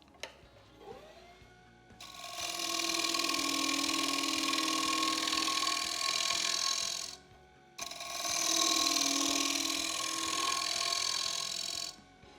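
A wood lathe scraper cuts along the rim of a turned bowl, giving two long, steady, close scraping passes with a rushing hiss and a brief pause between them, with no talk.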